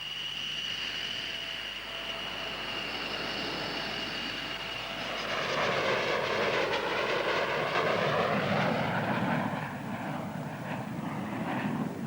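An F-15 fighter jet's engine at a 1980s UK airshow: a steady distant whine swells into a loud, rushing roar with a sweeping tone as the jet passes, then eases off slightly.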